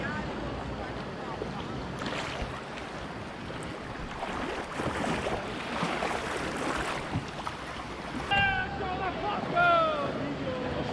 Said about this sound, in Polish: To jest nasza łódka.